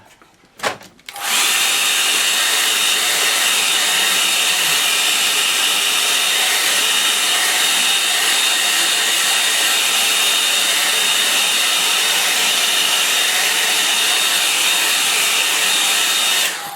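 Hair dryer drying a watercolour painting of an Essex estuary, switching on after a brief click and blowing in a loud, steady, whining roar close by for the rest of the clip.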